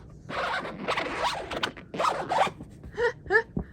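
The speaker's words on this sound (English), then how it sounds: "We're gonna zip it." A zipper on a vehicle window covering, probably a soft tent-like window, is pulled shut during an evacuation from a wildfire. It makes several close, raspy zipping strokes of different lengths, ending in a few short tugs.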